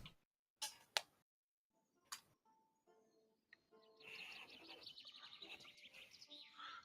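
Birds in a tabletop fantasy game session chirp and twitter, first in a few sparse, separate calls after quiet gaps, then in a busier, rapid run of bright chirps that fills the last seconds.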